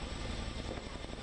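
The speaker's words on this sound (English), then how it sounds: "These lovely live images coming in of a CH-47F Chinook heavy lift helicopter" A CH-47F Chinook heavy-lift helicopter taking off during a rescue airlift, heard as a steady, dense broadband rotor and engine roar, loud and continuous, with no talk.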